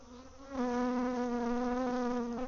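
A single bee buzzes close by near a hive with a steady droning hum that swells in at the start, then wavers slightly in pitch before fading at the end.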